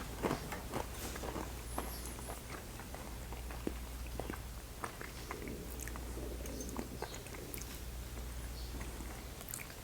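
Crunchy chewing of a pecan close to the mic, irregular biting and crunching crackles spread through the clip over a steady low hum, with no speech.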